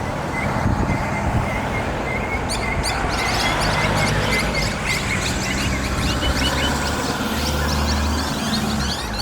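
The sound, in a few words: birds chirping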